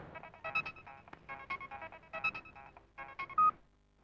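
A phone number is dialed during a Telugu film scene, producing a quick series of short electronic keypad beeps in irregular bursts that end with one longer steady tone. The beeps are clear and close, with no talking.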